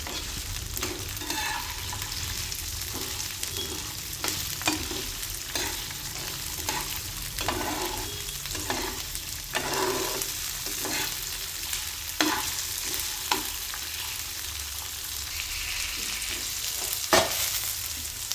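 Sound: green chillies roasting and stirred on a tawa

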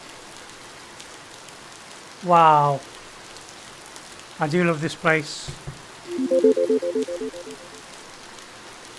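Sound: rain effect in Golf Pool VR video game

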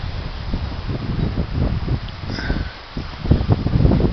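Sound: wind

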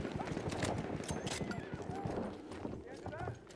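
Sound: horse in a video game

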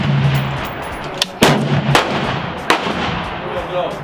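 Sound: AR-15 rifle gunshots

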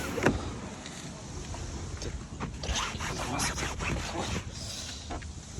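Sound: Renault Scenic 3 window sunshade blinds opening and closing

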